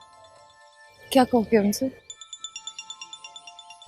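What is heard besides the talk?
phone ringtone ringing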